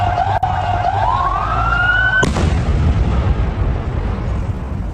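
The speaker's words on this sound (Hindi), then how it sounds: "तो आपने धमाके की आवाज सुनी है।" A wailing siren rises in pitch, then a sudden heavy explosion in Syria cuts it off, leaving a dense, rumbling roar that lingers at steady loudness.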